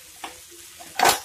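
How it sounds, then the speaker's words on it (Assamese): Borali fish head with potatoes is stirred in a wok, giving a brief scrape, a soft pause, then a louder sizzling stir close by, all within about a second. "এইদৰে লাহে লাহে লৰাই দিম"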